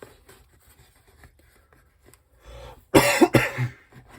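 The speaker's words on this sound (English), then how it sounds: "Excuse me for coughing there" A couple of harsh, loud coughs burst out close by after a quiet stretch, with faint rustling and soft background noise before them.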